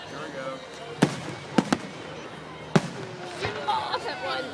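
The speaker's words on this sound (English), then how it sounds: "right in front of the freaking fireworks" Fireworks at a 4th of July show in Warrenville, heard as a few sharp, separated booms against a murmuring outdoor crowd, with voices nearby and a crackling burst near the end.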